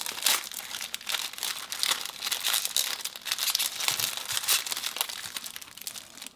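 Kinder Bueno wrapper torn open, a steady run of close crinkling and crackling plastic with a few sharper tearing bursts, no voices.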